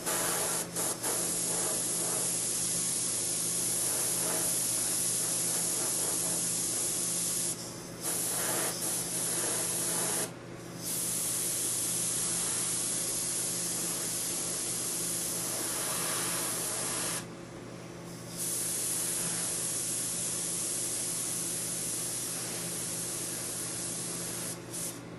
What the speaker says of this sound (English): Yay for compressor noise.